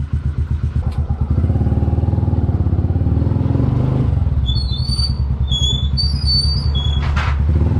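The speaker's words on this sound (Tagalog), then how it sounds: "kanina ko pa to na napaandar eh mainit na yung makina ni Mia" A warmed-up motorcycle engine idles close by with a rapid, even putter, joined briefly by a few high metallic squeaks near the end.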